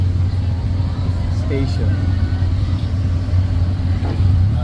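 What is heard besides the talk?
tuk-tuk ride in Bangkok traffic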